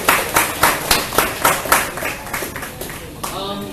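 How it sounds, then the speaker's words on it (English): Audience applause for a panel at a community networking gathering, with distinct rhythmic claps standing out near the start before thinning out, and a voice briefly speaking toward the end. "please give another round of applause to the"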